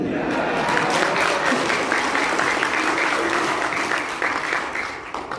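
Sustained applause from an audience at a Pemuda Pancasila branch working meeting in Batam: dense, steady clapping that continues throughout and thins slightly toward the end.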